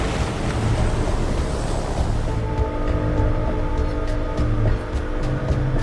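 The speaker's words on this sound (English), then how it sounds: "we're going to come and land in the water now" A seaplane settles onto the water in southern Bangladesh with a steady, loud rush of water and wind around the hull and a low engine drone running throughout, without any talking.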